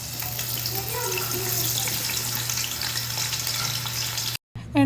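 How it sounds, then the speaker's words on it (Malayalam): Sliced onions fry in hot sunflower oil for a chicken biryani, a steady, close sizzle with soft bubbling and crackle that cuts out briefly near the end before resuming. "എണ്ണ നന്നായിട്ട് ചൂടായി വന്നപ്പോൾ നമ്മൾ കട്ട് ചെയ്ത് വെച്ചിരുന്ന സവാളയിൽ നിന്ന് പകുതി ഇതിലേക്ക് ചേർത്ത് കൊടുത്തിട്ടുണ്ട്"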